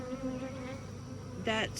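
Honeybees buzz around a beekeeper at an open hive, a close, wavering hum of wings that swells louder near the end.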